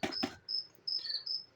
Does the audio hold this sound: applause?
no